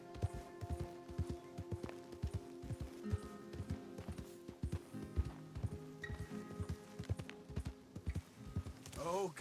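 Horse hooves clip-clop in Red Dead Redemption 2 as a restless mount hops and shuffles, a steady run of close, uneven thuds with a brief whinny near the end, under someone talking.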